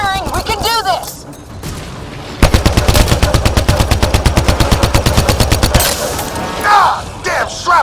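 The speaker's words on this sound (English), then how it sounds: "Just keep firing, we can do this!" Rapid automatic gunfire in the sci-fi shooter Mass Effect Andromeda, a long, evenly spaced burst of loud cracks, framed by shouted combat voices, alien chatter and electronic effects before and after.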